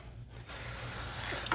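A close, steady hiss of kerosene sprayed onto a bicycle tire for cleaning begins abruptly after a quiet start and runs without a break to the end.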